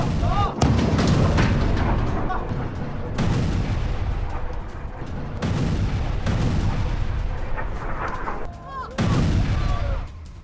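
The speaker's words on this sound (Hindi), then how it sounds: "एक साथ कई मिसाइलों से दहला दिया ईरान ने डिमोना को।" Iranian missile strikes exploding over Dimona, Israel: several loud, heavy blasts land a few seconds apart, each a broad booming burst over a constant roaring, rumbling background.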